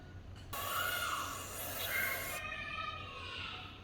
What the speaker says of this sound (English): Okay, brake cleaner.